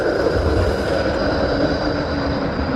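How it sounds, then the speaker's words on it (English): One of the new Melbourne trams rolls past close by, giving a steady, loud rumble of wheels on rail with a high squealing edge. No voices. "And here's a tram going past."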